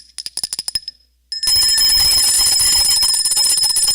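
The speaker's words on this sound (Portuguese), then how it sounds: "O sino é o sinal para a gente parar." A small hand bell rung during a Sunday evening church service as the signal to stop, its quick bright strikes opening the moment before a loud, dense wash of congregation noise swells up and fills the rest.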